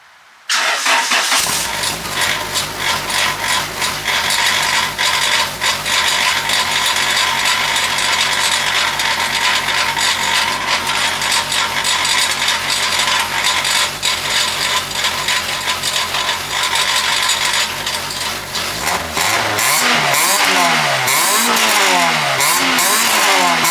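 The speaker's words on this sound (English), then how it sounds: "I'm going to start the car up, see how it sounds." A Honda Integra with a swapped B20B engine and a custom exhaust cranks with a ratcheting starter, catches, and settles into a loud, steady idle that runs on, then briefly rises and falls near the end.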